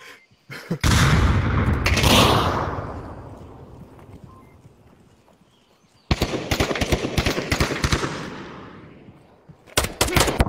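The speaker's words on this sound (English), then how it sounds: "Grenade!" In the Onward VR shooter game, a grenade blast booms and rolls away, followed by a rapid burst of heavy gunfire and a few more sharp shots at the end.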